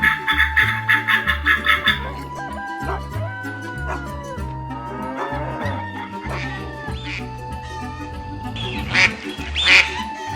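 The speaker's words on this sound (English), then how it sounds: "This is a female duck." A female mallard duck quacks repeatedly up close, joined by other farm-animal calls that sound like a dog and fowl, loud and layered in a busy mix with no speech.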